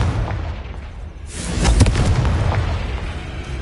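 Confringo blasting spell in Hogwarts Legacy, a quiet low rumble broken by one sudden bursting explosion midway that rolls off into a lingering boom, with no speech.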